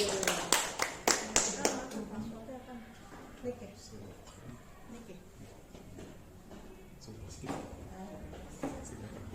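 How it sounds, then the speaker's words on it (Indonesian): At a teachers' dissemination session, a room of adults breaks into a brief round of clapping that fades fast. A speaker then carries on talking over scattered late claps and the murmur of the room. "Tepuk tangan Bapak Ibu"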